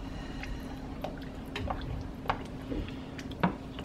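Water poured into a tomato chili dog sauce makes quiet drips and soft wet squishes over a low steady hum, faint and close.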